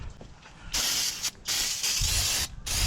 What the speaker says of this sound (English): Use some brake cleaner, clean off these rotors.